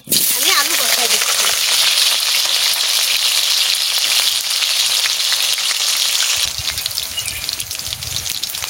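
Potatoes frying in hot oil in a pan over a wood fire, a loud steady sizzle that starts abruptly and holds throughout, easing slightly near the end.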